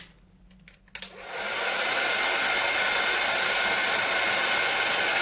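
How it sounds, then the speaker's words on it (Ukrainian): A hair dryer powered by an AlphaESS BlackBee portable power station clicks on after a second of near silence and then blows steadily with a loud, constant whooshing hum, nearby and uninterrupted. "Ось мій фен, вмикаємо його."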